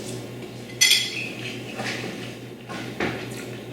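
A spoon clinks against a plate of skillet fettuccine with chickpeas and garlic. One clear clink is followed by softer scraping over a steady low room hum.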